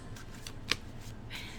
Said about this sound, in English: we will shuffle again.